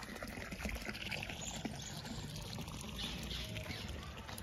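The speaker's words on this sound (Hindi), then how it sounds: "तो यहाँ से पानी आ रहा है" Water trickles out through holes in a dam on a college campus, a steady, fairly faint wash of dribbling and splashing that runs throughout, with light outdoor ambience and a few soft bird-like chirps in the background.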